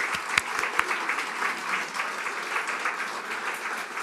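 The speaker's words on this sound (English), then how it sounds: "tonight to stand up so we can give them a round of applause" Audience at an educational publishing awards ceremony applauding the judges: steady, dense clapping from a sizeable crowd sustained evenly throughout, with a few sharp close claps near the start.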